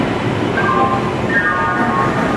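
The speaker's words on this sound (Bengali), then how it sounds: "ট্রেন এখন ঘুরছে" A train rumbles along steadily on its way toward Howrah, with a continuous, loud rolling drone and faint tonal squeals of the wheels rising briefly over it.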